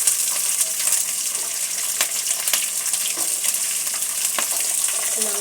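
Garlic, shallots and green chilies sautéing in sesame oil with mustard seeds and lentils, a steady close sizzle with scattered crackles and stirring clicks, no voices.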